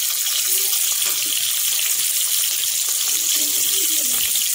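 Sliced okra frying in hot oil for crispy bhindi: a loud, steady, hissing sizzle close by, with faint scraping under it.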